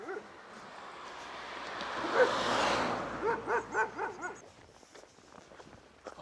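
Aggressive dogs bark in a rapid series of sharp yaps on a hillside, fairly close, preceded by a rising rush of wind and shuffling footsteps.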